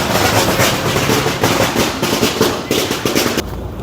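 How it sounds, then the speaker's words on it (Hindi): Firecrackers set off near a small ferry station beside the railway market by Mahachai station, giving a dense run of sharp, crackling bursts at close range that fades away at the end. "पटाखे चलाए हैं इन्होंने"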